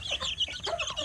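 Native village chicks cluck and peep busily while eating and drinking together, a continuous overlapping chorus of small close calls.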